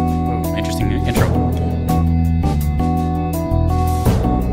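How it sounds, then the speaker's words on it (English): Rhodes electric piano chords in a Persona 5 track, playing loud and sustained over a steady backing groove with bass and other instruments, no voices on top. "That's the Rhodes piano, by the way, that sound you're hearing."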